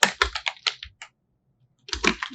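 Keystrokes on a computer keyboard as a password is typed, a quick burst of clicks, a pause, then another fast run of taps, close and clear with no talking.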